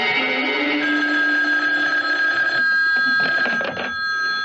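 An old-style telephone bell rings close and loud with a continuous metallic trill, then breaks into shorter bursts near the end.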